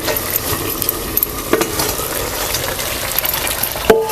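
Mutton sukka cooks in a pot as the lid comes off, releasing a steady close sizzle and bubbling with light clinks, ending in a sharper metallic knock.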